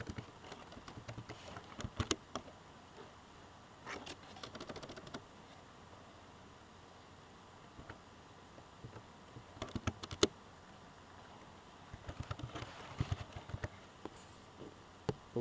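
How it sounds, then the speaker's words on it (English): Soft, sparse clicks of typing on a computer keyboard at a desk, arriving in short bursts separated by quiet gaps, faint and fairly close over a low background hum. "So I'm going to type"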